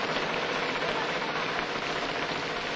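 Steady rain falls in a dense, even hiss, loud and unbroken throughout with no voices.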